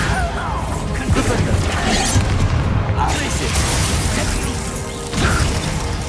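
Bombarda spell explosion in the Hogwarts Legacy video game: a loud crashing boom amid continuous battle noise, with a second impact burst near the end.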